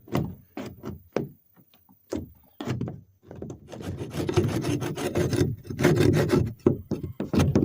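Putty knife scraping melted residue off a boat hull: a string of separate short scrapes, then a longer stretch of continuous, rough, repeated scraping, close and fairly loud.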